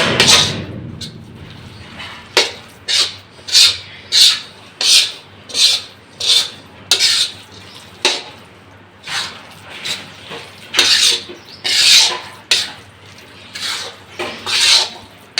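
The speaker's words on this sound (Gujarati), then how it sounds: "અને હવે આપણે આને ધીમી આંચે પકવવાનું છે સારી રીતે મિક્સ કરી દઈ પછી પકવવું" Spoon scraping a mohanthal gram flour mixture around a pan on a low flame, a series of rhythmic rasping strokes about once per second, close and clear with no talk.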